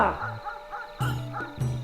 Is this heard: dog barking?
yes